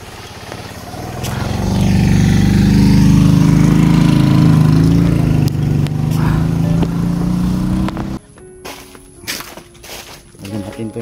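A motorcycle on a highway roars up loud and close, its engine swelling and holding for several seconds, then cutting away to scattered clattering noises.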